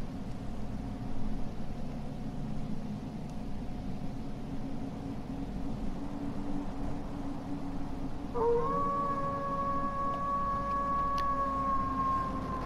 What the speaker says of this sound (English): That's a victory howl.